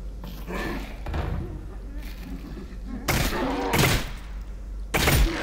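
Gunfire from a gun in Half-Life: Alyx, three loud bursty blasts in the second half, preceded by quieter thumps and a voice talking.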